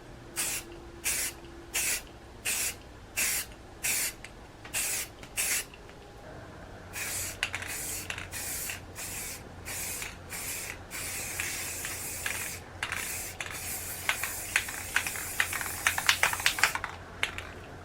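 Short bursts of spray paint hissing onto a crankbait fishing lure through a stencil: a run of regular, evenly timed puffs, then a denser stretch of overlapping hisses, close and with no talking.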